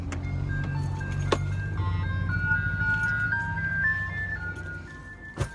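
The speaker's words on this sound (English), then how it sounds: "Ice cream man just turned on my street as I was walking out the door." Ice cream truck driving along a residential street, its tinkling melody playing over a low steady engine rumble, heard at moderate distance.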